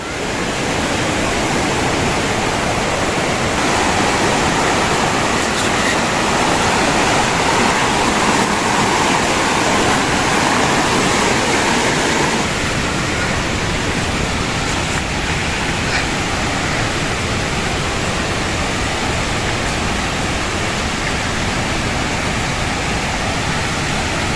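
Polluru waterfall roars with a steady, dense rush of falling water, loud and unbroken throughout with no voices.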